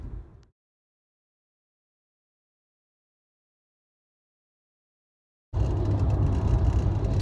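Steady, loud road rumble of a car travelling on a highway, cutting in abruptly after a long silent gap and continuing to the end; a short burst of similar noise opens the stretch.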